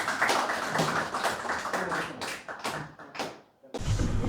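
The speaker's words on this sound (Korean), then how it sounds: "박수 한번 부탁드리겠습니다." Applause from an audience in a large auditorium at a political lecture, dense rapid claps fading out and then rising again after a brief lull.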